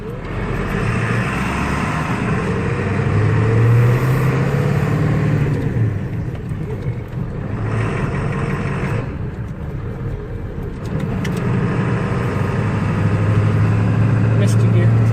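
Ford F-250 heavy-duty truck engine roaring while driving, a loud, steady low rumble that rises and dips as it shifts, with talk over it.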